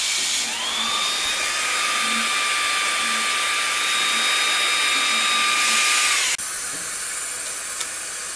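An xTool D1 40W diode laser cutting 9mm hardwood plywood gives a loud, steady airy whine and hiss that rises at the start, holds for several seconds, then drops abruptly to a quieter hum.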